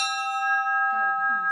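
A single consecrated bell in a Bible museum rings with a clear, sustained tone that slowly decays, while a voice begins talking faintly beneath it.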